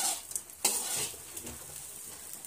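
South Indian lemon rice is stir-fried in a pan with a soft sizzle under scraping, clinking spatula strokes, heard up close.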